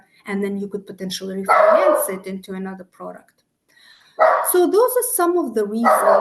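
A dog barks and yips repeatedly close by, loud and overlapping with someone talking, with a brief quiet gap before more barking bursts in.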